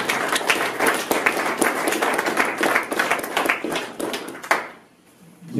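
A room applauds a former business minister at a talk, with brisk, dense clapping from many hands that carries steadily, then tapers off into near silence at the end.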